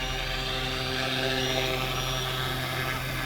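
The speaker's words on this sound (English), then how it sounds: "we'll do a nice smooth landing right here in front of us" A Fly Wing FW200 GPS RC helicopter comes down to land nearby, its rotor and motor making a steady, loud whirring drone with a high electric whine, continuous and unbroken.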